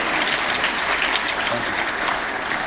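An audience applauds steadily throughout, dense continuous clapping at a talk on low-cost journalism.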